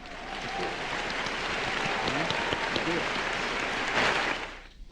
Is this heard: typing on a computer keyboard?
no